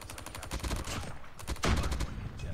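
Dingo rifle fire in a video game, rapid bursts of automatic gunshots rattling in quick rhythm, with a brief pause before another loud, close burst.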